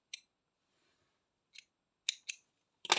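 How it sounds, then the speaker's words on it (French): Scissors snipping acrylic yarn while crocheting an amigurumi hedgehog, a few sharp close snips separated by pauses and a louder final cut, with no talking. "On va venir couper le fil."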